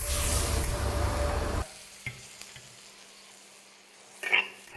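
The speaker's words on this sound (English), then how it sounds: "give it a toss. Stir everything evenly and it's ready to serve." Snow peas stir-fried in a hot wok, loud sizzling and scraping of tossing for over a second, then cutting to a quiet pause with a faint hum and a short clatter of spatula against the wok at the end.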